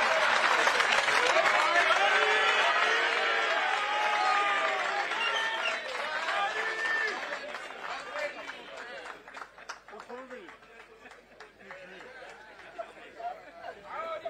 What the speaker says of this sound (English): Another round of applause for the head of state.